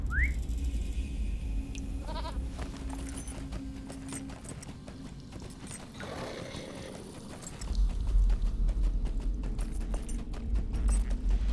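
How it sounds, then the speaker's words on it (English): A goat mount in the online game LOTRO trots along with rhythmic clopping hooves and occasional game effects, steady and fairly close. "Let me get on my goat."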